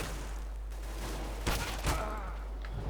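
Enemy gunfire in a Counter-Strike: Global Offensive match on an Aztec map, two sharp bursts of shots rising out of steady background game noise, fairly close and loud, with no talking.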